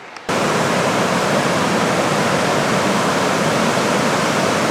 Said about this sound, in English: I love the whitewater.